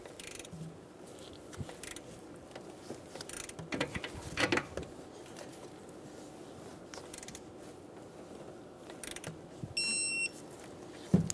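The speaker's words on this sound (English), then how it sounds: "Snug the nut down and torque it to 16 foot-pounds" A nut being torqued onto a stud on the AC condenser and receiver drier assembly of a 2014-2018 Chevrolet Silverado, close mechanical ratchet clicks and metallic clinks in short bursts, with a brief electronic beep near the end.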